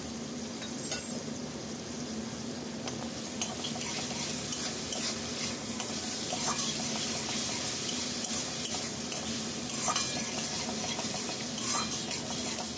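Finely chopped tomato and onion fry with salt in a pan for prawn rice, a soft, continuous sizzle broken by intermittent scraping stirs, with no talking.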